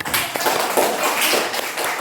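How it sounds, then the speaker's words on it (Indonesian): Brief burst of clapping from a small audience at a teachers' best-practice sharing session, a fairly loud, close patter of hands that runs with no one speaking. "beri tepuk tangan"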